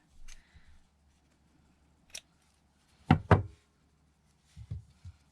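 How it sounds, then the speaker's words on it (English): Scissors trim the inside of a pinked paper craft heart ornament, giving a few sparse, quick snips and light taps with quiet gaps between them, close by and alone. "Just have to trim the inside a little"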